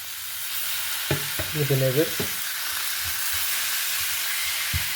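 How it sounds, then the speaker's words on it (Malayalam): Chopped chicken sizzles in a pan for biryani, with a constant frying hiss and occasional stirring scrapes, and a voice briefly speaks over it. "അപ്പോൾ അതിനകത്തേക്ക് ഞാൻ ചിക്കൻ ആഡ് ചെയ്ത് കൊടുക്കുകയാണ്."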